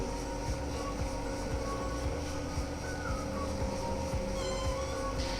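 A 36V 350W waterproof hub motor on a fat-tyre e-bicycle speeds up under throttle, a faint, continuous whine with a rising tone, heard from close by.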